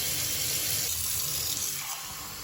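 Tap water runs steadily and fairly close, filling containers for a kitchen density experiment, a broad continuous rush that softens slightly toward the end, with no talking.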